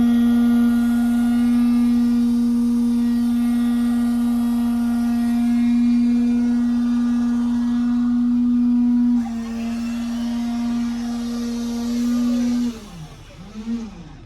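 Miller Bobcat welder powered by an electric-start Honda GX390 engine, idling with a loud, steady, tonal drone that shifts slightly partway through, then wavers and falls away near the end.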